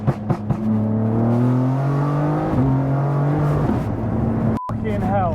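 A tuned 750 hp BMW G82 M4 engine pulls hard through the gears, its loud in-cabin drone rising in pitch, dropping at a shift, then climbing again, with a brief cut near the end and voices talking over it.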